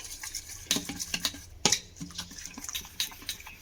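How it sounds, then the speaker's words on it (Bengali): Egg batter with carrot, chopped coriander leaves and salt being mixed in a bowl, giving irregular scraping and clinking strokes of a utensil against the dish, close and fairly quiet, with no talking. "দিয়ে আমি এবারে এই ব্যাটারটাকে খুব ভালো করে মিশিয়ে নেব।"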